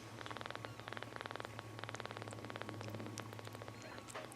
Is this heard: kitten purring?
yes